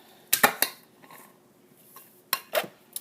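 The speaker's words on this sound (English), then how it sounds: "And then I'm going to open the jelly." A brand new jar of jelly being opened, with a few sharp clicks and clinks of the lid and glass in quick pairs, close by in a quiet kitchen.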